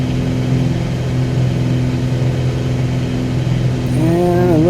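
Cessna 182 piston engine in Microsoft Flight Simulator 2020, a loud, steady propeller drone as throttle and prop are advanced, its pitch climbing and wavering near the end.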